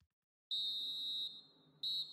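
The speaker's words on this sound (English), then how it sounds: "That's the final whistle from the referee." Referee's final whistle in a FIFA football video game during a Manchester City match: a loud, shrill, steady blast of nearly a second that drops to a quieter sustained tone, then a second sharp blast at full strength.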